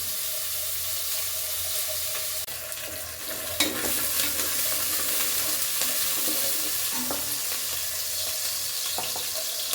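Chopped onion frying in a home kitchen pan, a steady close sizzle with occasional stirring scrapes, continuous throughout with no talking.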